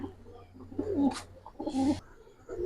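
Pigeons at a farm keeping Giribaz and colored breeds give two soft, close coos with gurgling rises, over a low steady hum.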